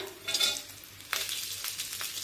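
Chilies and garlic frying together with cumin seeds in a pan, giving a soft, steady sizzle with a few stirring scrapes, one sharper clatter midway.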